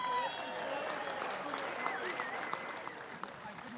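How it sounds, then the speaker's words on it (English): A crowd at a pickleball championship applauds the men's doubles bronze medalists in a steady, moderate wash of clapping, with voices talking over it throughout. "A round of applause."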